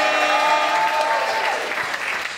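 Steady applause from a studio audience for a game contestant, dense clapping that holds for a couple of seconds and tapers slightly at the end.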